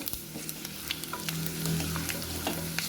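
Spices sizzle steadily in a hot pan with chilli powder and pepper powder for raw mango rasam, a constant crackling fry with light scraping stirs and no talking.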